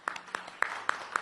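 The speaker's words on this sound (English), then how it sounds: "So let's also give a round of applause to the media." Sparse applause at a press event with an economic minister, a few distinct hand claps spaced in a loose rhythm, close and crisp over a quiet room.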